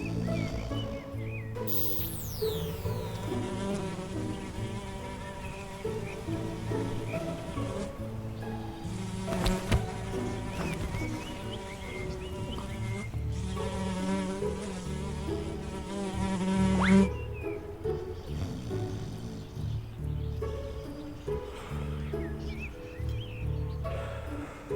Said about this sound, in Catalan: Maleïdes mosques